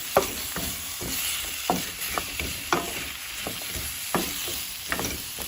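Food in a pot being stirred after cinnamon is mixed in, with repeated spoon scrapes and clinks against the pot over a soft background sizzle, close and steady throughout.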